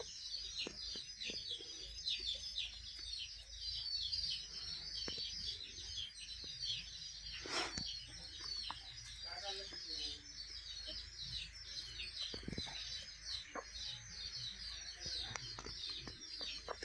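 A farm hen with her newborn chicks peeps and chirps in a dense, steady chorus, with a few soft low clucks and coos breaking through now and then, all close by and unbroken.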